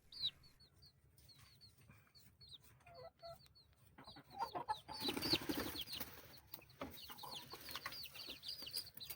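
Rhode Island Red chickens and young chicks cluck and peep steadily across the clip, with repeated high chirps, a louder flurry of scuffling and wing flaps in the middle, then continued clucking close by.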